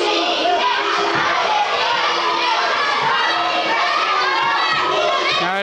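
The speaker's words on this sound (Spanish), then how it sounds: "El grito de arriba a los rudos." A lucha libre arena crowd yells and jeers at the rudos mid-match, a loud sustained roar of many voices with high children's shouts, constant throughout.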